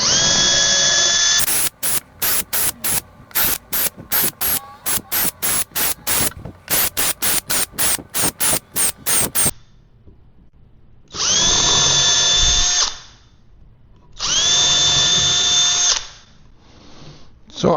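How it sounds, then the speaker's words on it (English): Cordless power drill pre-drilling twelve holes all the way through wooden cart parts: a long run of rapid on-off bursts of high whirring, then two longer sustained drilling runs, loud and close with no voices. "I'm gonna go ahead and pre-drill all 12 holes right now, all the way through."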